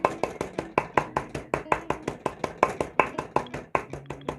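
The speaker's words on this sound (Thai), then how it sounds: "ทุบโดยที่ จะใส่ถุงไว้ทุบนะครับ" Rapid, steady thuds of pounding chilies and garlic inside a bag on a hard surface, about five blows per second, close and even in rhythm.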